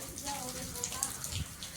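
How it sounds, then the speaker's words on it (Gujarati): Soft, steady patter of rain falling into a waterlogged courtyard, faint and continuous with scattered drip sounds. "વરસાદ તો આવે છે"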